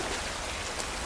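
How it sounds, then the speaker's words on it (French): Rain falling in The Last of Us video game: a dense, steady hiss of rainfall spread evenly with no breaks and no voices. "il y a même les effets de la pluie qui tombent là-bas les gars"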